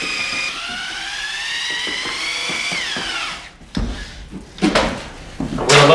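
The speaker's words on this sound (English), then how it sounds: "I chuck a large paddle mixer into my 1/2 inch drill and stir until smooth." A 1/2 inch power drill with a large paddle mixer whines steadily at high speed stirring drywall joint compound, then stops, followed by scraping and clanking as the mixer is handled.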